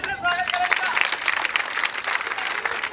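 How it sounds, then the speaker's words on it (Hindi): An audience at a school Independence Day celebration applauding to welcome a speaker, a close, dense burst of clapping from many hands that continues steadily for a few seconds with faint voices mixed in. "तालियां से स्वागत करेंगे"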